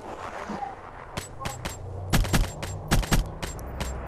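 Rapid gunfire in the video game Black Ops 3 during an online match, sharp bursts of shots in uneven clusters, loud and close, over faint background game noise.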